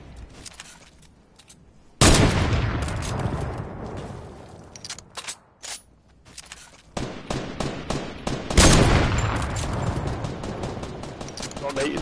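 Fortnite gunfire rattles through a fight: one loud crack starts a sustained burst, then choppy bursts of shots come in close, loud and uneven bursts, with voices now and then underneath.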